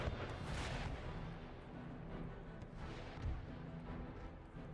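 Distant howitzer artillery fire in Empire Total War, a low rumbling barrage of booms and crashing impacts over a battlefield din, fairly faint and muffled.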